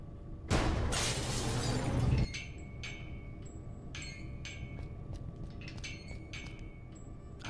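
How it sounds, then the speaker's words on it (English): Glass shattering above a laboratory door in the point-and-click adventure game Gibbous, one loud broad crash lasting under two seconds, followed by quieter scattered clinks and tinkles of falling shards. "I got rid of the glass above the door to the lab"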